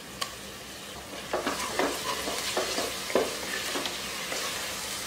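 Tomato and ginger-garlic paste sautéing in oil, a steady close sizzle punctuated by a series of spoon stirs and scrapes that come in uneven bursts, with no speech.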